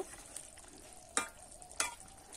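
Tangra fish curry with cauliflower simmering in a pan, with a soft bubbling bed and two sharp scraping clinks of a spoon against the pan as it is stirred, close up, with no talk.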